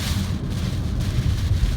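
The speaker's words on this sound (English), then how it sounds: "it's getting pretty gusty" Strong typhoon wind gusts buffet a car on a coastal road along Taiwan's east coast, a steady loud roar with heavy low rumble and rushing noise filling the whole moment, no voices.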